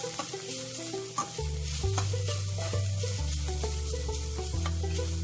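Broccoli stirred and cooked in a pan for paratha filling, a close sizzle with repeated scraping stirs over a low steady background hum, no talk.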